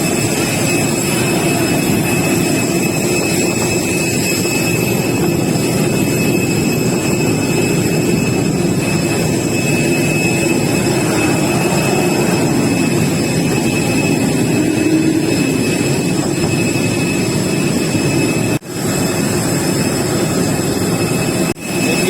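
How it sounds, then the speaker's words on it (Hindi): IndiGo jet aircraft engines run steadily at an airport, a loud continuous roar and whine with high tonal hums, unbroken and close throughout with no talk. "ये अपनी इंडिगो की फ्लाइट खड़ी है, इसी विमान से जाना है।"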